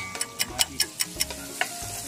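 Tomatoes sizzle in a pan for beef menudo, a steady close frying hiss broken by regular stirring clicks, with no talking.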